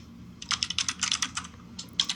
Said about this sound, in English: Oh, there's that keyboard.